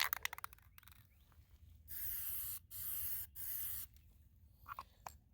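After some light rattling, a spray can of Kubota Acrylic Enamel Bright Orange paint with a fine spray tip releases three steady, close hissing bursts separated by brief pauses.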